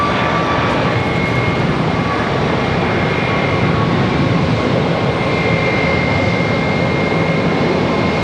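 A Boeing 737 MAX 8 departing Charlotte Douglas for Cincinnati produces a continuous, loud jet roar with a faint high whine running through it, heard alone with no talking.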